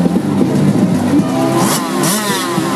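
A KTM motorcycle revs hard at a hillclimb event, its engine note rising and falling in quick bursts of acceleration, loud and close.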